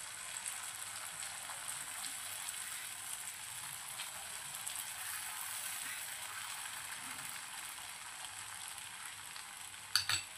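Semolina uttapam batter sizzling on a hot griddle over low gas, a steady soft frying hiss throughout, with a brief clatter at the end.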